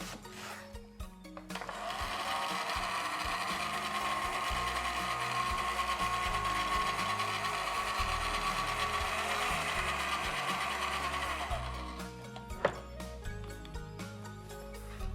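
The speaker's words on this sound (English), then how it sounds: "Let me just blend this up." A blender purées an almond sauce in a steady, fairly loud whir for about ten seconds, then stops, leaving a few clicks and clatters.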